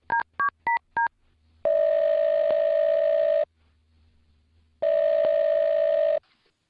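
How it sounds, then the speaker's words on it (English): Four quick touch-tone dialing beeps of a telephone being dialed, followed by two long steady ringback tones separated by a silent pause, loud and clean with nothing else heard. "I'm going to dial her phone number right now"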